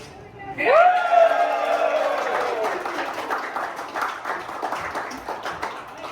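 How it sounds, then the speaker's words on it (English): A crowd cheers and claps right after a ribbon is cut at a greeters' business celebration, opening with a sharp whoop before sustained applause and mixed voices carry on to the end. "after he cuts it, we cheer"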